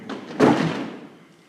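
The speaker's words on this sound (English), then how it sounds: "he ran through the door, slamming it behind him" A door slams shut as a sound effect in a spooky story told at a Halloween concert, giving one heavy, close thud that trails off into a short rumbling decay.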